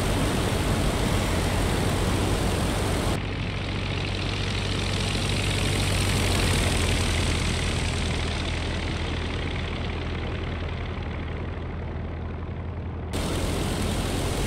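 A battle-damaged Albatros D.Va WWI propeller biplane drones in flight in an air combat game, a loud, continuous low engine rumble with a slight tonal change midway and no voices.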